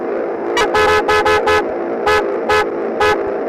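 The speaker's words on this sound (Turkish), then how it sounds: "Korna sesini dinleteyim arkadaşlar ben susuyorum" A car horn honks in a quick series of short and longer blasts, loud and close, over a steady engine hum.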